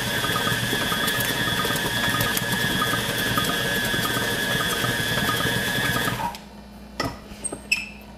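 Electric mixer with a beater whipping buttercream icing runs loudly and steadily with a mechanical whir, then stops abruptly near the end, followed by a few faint clatters.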